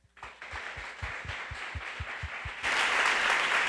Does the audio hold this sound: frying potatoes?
no